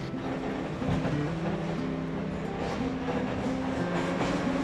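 A metro train rolls along, producing a steady, loud rumble with tonal hum that shifts in pitch, heard up close from inside the carriage without any voices.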